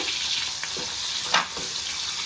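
Tomatoes sizzle and fry in a pan for mango coconut chutney, a steady close hiss with a brief clatter of stirring near the middle.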